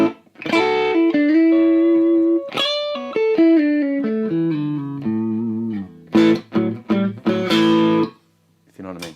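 An electric guitar played through a drive pedal and other effects pedals rings out a series of sustained overdriven notes and short slides, then a quick burst of choppy staccato chords near the end, loud and close.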